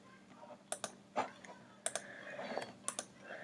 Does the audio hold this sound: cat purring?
no